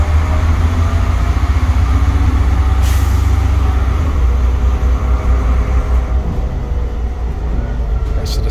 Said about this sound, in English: That's the retarder kicking in.